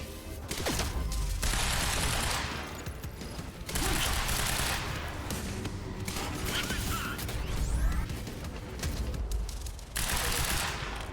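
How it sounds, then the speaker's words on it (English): Assault rifle gunfire in the video game Quantum Break, long loud bursts of rapid automatic fire broken by short pauses and mechanical clatter, with no talking. "Grab this assault rifle."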